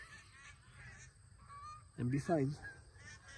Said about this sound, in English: The geese are start getting together.